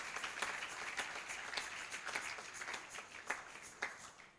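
A church congregation claps steadily in a quiet, somewhat distant room, rhythmic hand claps repeating for several seconds with a faint voice underneath.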